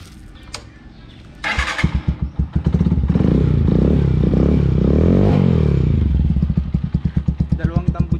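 A budget scrambler build, either a Suzuki X4 125 or a TMX 125 motorcycle, fires up nearby and settles into a loud, steady, pulsing run. People talk over the engine.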